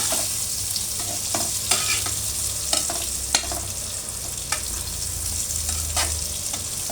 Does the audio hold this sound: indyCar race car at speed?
no